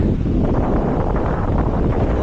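Strong wind on a beach blasts across the microphone as a loud, continuous low rumble and roar that never lets up.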